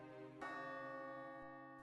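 A church bell tolls at a medieval castle, one sustained ringing stroke with a long humming decay, heard alone and fairly faint.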